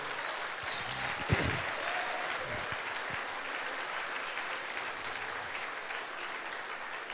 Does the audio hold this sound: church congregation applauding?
yes